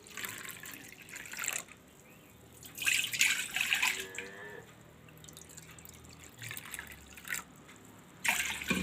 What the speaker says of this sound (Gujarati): બે વાટકા પાણી લીધું છે આપણે,